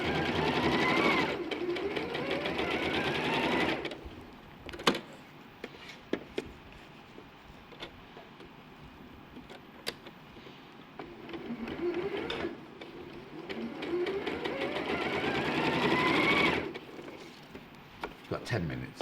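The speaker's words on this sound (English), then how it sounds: "when you sew to the end, your seam goes straight through" A sewing machine stitching a seam runs in two bursts of fast, steady whirring, quiet stretches between them with a few clicks and someone talking softly.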